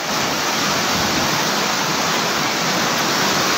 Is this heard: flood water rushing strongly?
yes